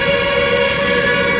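A Kanpur metro train passes close by, a loud, steady rail rumble with a sustained horn-like tone running through the whole short moment.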